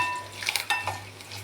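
Dried anchovies fry in a pan while a spoon stirs them, giving a soft sizzle with a few sharp metallic scrapes and clinks near the middle, close and clear.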